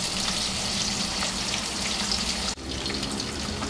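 A plain, unbattered sea bass fillet fries in a pan over medium heat with a loud, continuous close-up sizzle. The sizzle dips for a moment partway through, then carries on steadily, with no speech.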